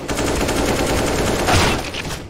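Rapid gunfire crackles in a competitive team shooter video game, a dense stream of loud shots with a brief heavier burst partway through.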